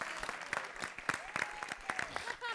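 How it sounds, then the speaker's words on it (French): An audience applauds improv performers at a comedy show, scattered claps ringing out fairly faintly while a voice carries on over the clapping. "j'aimerais qu'on leur donne une bonne main d'applaudissements"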